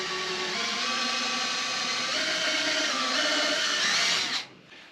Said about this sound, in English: so we're going to drill through the yoga block next.